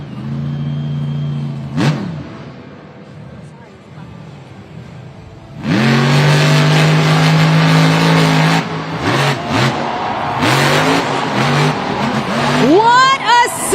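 A Monster Jam monster truck at an arena show, its engine droning at idle and then roaring loudly with rising revs from midway, thick and sustained under crowd noise and an announcer's voice.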